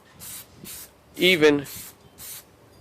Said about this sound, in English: Give you one more hit of this, just to give you an idea of my spraying technique.